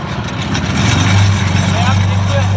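The engine of an old Japanese fertilizer spreader hums steadily and rises as it is revved, droning close by beneath a man's speech.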